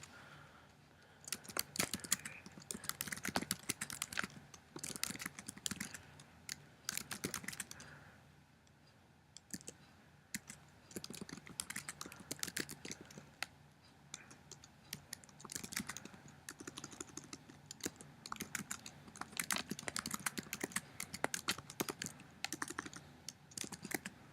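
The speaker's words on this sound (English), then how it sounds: "now I'm going to simply type in my directions." Rapid, dense clicking of fingers typing on a computer keyboard, close and continuous, with bursts and brief pauses and no talking.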